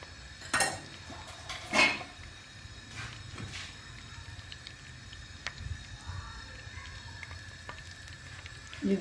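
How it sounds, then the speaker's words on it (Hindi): Ghee heating in a pan while boondi for motichur laddu fries, a soft steady sizzle that runs throughout, broken by a few sharp metallic clinks of utensils against the pan. "ये देखिए अब घी पकना शुरू हो गया"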